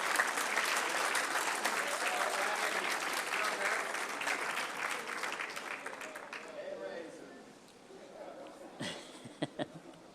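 A council meeting audience gives a sustained round of applause that fades out after about six seconds, leaving quieter room noise with a few scattered claps and murmurs.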